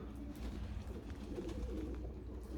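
A loft flock of Budapest pigeons just released, heard faintly at a distance as soft cooing and bird noise over a constant low background hum.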